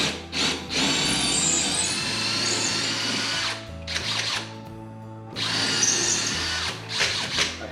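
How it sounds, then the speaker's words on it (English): A power drill set to speed 2 bores into a wall to hang a TV mount, giving long steady whining runs broken by short pauses. The drill is close and loud, with no talking. "Put my drill on number 2 for speed."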